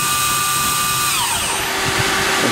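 A Citizen B12 CNC Swiss lathe's main spindle spins at 8000 RPM, recorded about ten inches away: a loud, steady high-pitched machine whine with sustained tonal lines that shift partway through over a constant mechanical hum.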